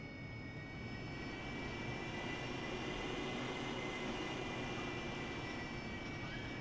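Military aircraft engine in a flight simulator, fully loaded on grass at a forward arming and refueling point, holding a steady loud drone as throttle builds for takeoff.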